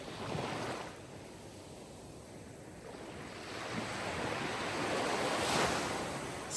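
Sea waves roll and wash ashore in a steady broadband surf, the roar easing slightly before building louder toward the end, with no voices.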